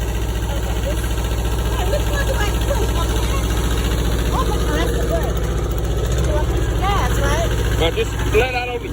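Tractor engine chugging steadily at a low idle as the clutch is let out, a close rhythmic rumble that dips slightly near the end, with people talking over it.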